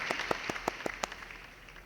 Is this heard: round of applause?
yes